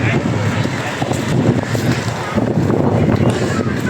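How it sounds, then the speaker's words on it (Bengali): Strong wind gusts buffet the microphone on Jilapi hilltop in Chattogram, a loud, rumbling, steady roar with uneven surges. "আর দেখ ভাই যে বাতাস"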